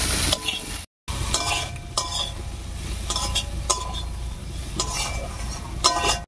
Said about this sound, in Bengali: লঙ্কার গুঁড়োটা দিয়ে একটু নাড়িয়ে নিয়েছি